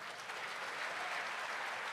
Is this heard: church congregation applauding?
yes